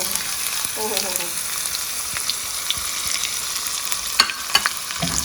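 White cumin and green garlic sizzle in a hot pan as a tempering for sarson ka saag: a steady, close crackling hiss with a few sharper pops near the end, with no talking.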